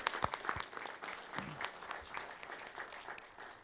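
Applause from a city council meeting audience, a steady patter of many hands clapping at moderate volume, with a brief voice breaking in partway through.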